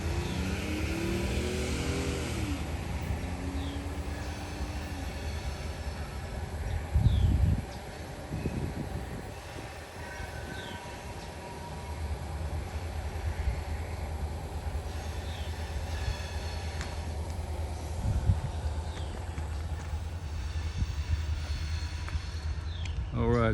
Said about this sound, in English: that train's just about into the siding